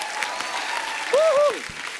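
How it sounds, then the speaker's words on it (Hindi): Studio audience applause on a Hindi comedy talk show with Salman Khan as guest, a dense steady wash of clapping throughout, with a brief whistle or cheer rising over it midway. "जोरदार तालियां।"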